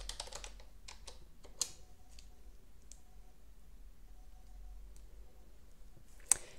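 Light, faint clicks of a computer keyboard as a search is typed, a few scattered keystrokes over a quiet, low hum with a couple of sharper taps.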